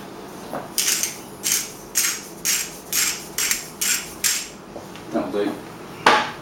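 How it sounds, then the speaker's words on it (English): A whisk beating Yorkshire pudding batter in a bowl, seasoned with a little salt, makes about nine quick bursts of close, bright metallic scraping and clattering in a steady rhythm, with brief pauses between strokes and a louder final burst. "give it another little whisk"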